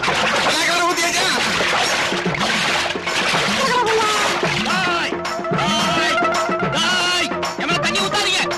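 Water is poured and splashes onto a person in a film comedy scene, a continuous sloshing splatter with loud overlapping voices and background music throughout.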